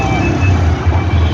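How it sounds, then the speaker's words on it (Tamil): Bangalore road traffic hums steadily in the background, a dense low rumble of passing vehicles with no single one standing out. "டிராஃபிக்."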